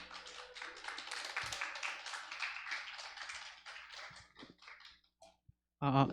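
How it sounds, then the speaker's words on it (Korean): Congregation at a church young adults' worship service applauding to welcome a guest preacher, a fairly soft, steady patter of many hands that thins out and fades near the end before a brief louder burst. "박수로 한번 맞아주시기 바랍니다."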